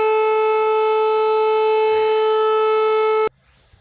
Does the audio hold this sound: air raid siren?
yes